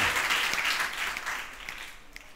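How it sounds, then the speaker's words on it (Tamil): A church congregation snaps their fingers together during an online Sunday service sermon, a dense, steady crackle of many overlapping snaps that fades slightly toward the end. "சொடக்கு நல்லா சத்த கேக்குது."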